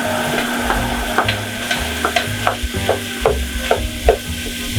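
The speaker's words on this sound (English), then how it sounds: "we're going to hear again frying" Meat and vegetables sizzle steadily in a pan for an Italian tomato meat sauce, with repeated scraping and stirring strokes over the continuous fry and no voices.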